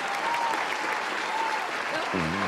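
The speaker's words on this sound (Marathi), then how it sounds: "पंडितजींसाठी एकदा टाळ्या होऊन जाऊ दे, जोरदार टाळ्या होऊन जाऊ दे" A studio audience at a Marathi comedy show claps loudly and continuously for a performer, forming a dense, even wash of applause, and a voice joins in near the end.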